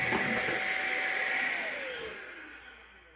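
A Roedix electric air duster pump runs with a steady motor whine and airy rush, loud at first and then fading and dropping in pitch as it winds down, with no voices.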